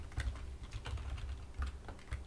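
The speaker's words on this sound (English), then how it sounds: "The typing just gets better and better." Fingers type steadily on a computer keyboard, a close run of quick clicks and key thumps with brief pauses and no talking.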